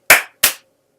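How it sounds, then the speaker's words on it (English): Two crisp hand claps, close and evenly spaced, tap out the rhythm of a name answer in a classroom clapping game, followed by silence. "And they're going to clap their answer."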